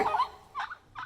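Farm turkeys raised as holiday birds gobbling in a pasture, three quick warbling calls in a little over a second, moderately close with no speech.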